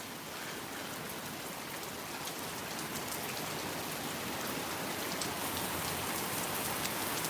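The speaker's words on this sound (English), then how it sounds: "here it comes, another downpour" A heavy tropical downpour during a thunderstorm, dense rain hammering surfaces in a constant, even roar that stays steady throughout, with no voices.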